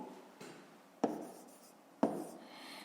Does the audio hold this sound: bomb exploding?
no